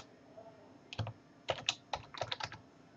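Keystrokes on a computer keyboard entering field names into an SQL statement, sparse taps then a quick run of clustered presses, close and moderately loud with no talking.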